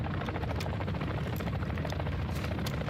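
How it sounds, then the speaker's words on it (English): A helicopter approaches in the Call of Duty Black Ops 6 video game, a dense continuous rotor roar filling the scene with rapid chopping pulses and occasional sharp bursts mixed in. "we got chopper coming"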